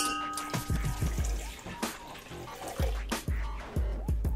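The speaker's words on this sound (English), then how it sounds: "I'm gonna pour the rest of the water in." Water splashes and glugs as it's poured into a pizza dough mixture, with irregular wet drips and sloshes throughout.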